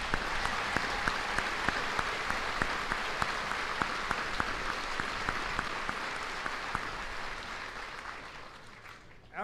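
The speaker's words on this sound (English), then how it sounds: "Please join me in a round of applause for our military families." Crowd applause for military families at an Army basic training graduation at Fort Jackson, a steady wash of clapping from a large outdoor audience sustained for about nine seconds before fading out.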